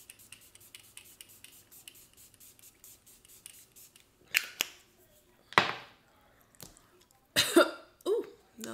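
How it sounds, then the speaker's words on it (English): A facial mist bottle sprays in several short, sharp hissing bursts close by, with quieter clicking and handling sounds between the sprays. "I'm going to spray my face with my Caudalie spray"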